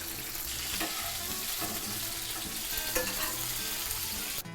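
Chicken for a taco salad fries in a pan over fairly high heat with a constant, hissing sizzle and faint crackles. The sound is close and even, and now and then a light knock of a utensil breaks through.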